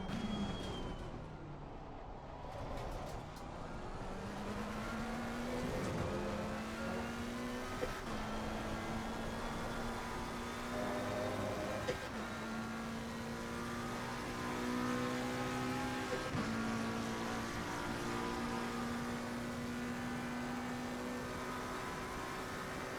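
A BMW race car engine drones in a racing video game, a steady whining tone that climbs and drops with gear changes at moderate level, running without pauses for over twenty seconds.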